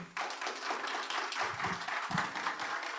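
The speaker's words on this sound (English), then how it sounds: "let's have a round of applause for Mike." An audience applauds a guest speaker after a community talk on native plants, steady broadband clapping that starts abruptly and continues at an even level throughout.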